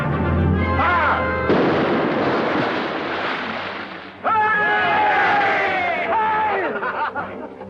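A ship's cannon fires aboard a sailing vessel, a loud booming blast that rolls into a long noisy rumble, with a second heavy burst about halfway through and voices calling out under the din.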